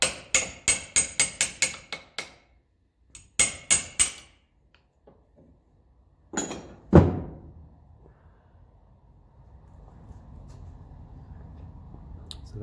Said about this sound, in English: Where's the punch? Just tap it out the last there now.